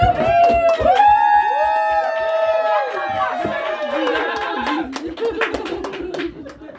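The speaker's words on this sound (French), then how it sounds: "On applaudit Fiona." Audience at a French comedy show clapping for a contestant, a scattered round of claps with some cheering over loud tonal music and sweeping sound effects that dominate throughout.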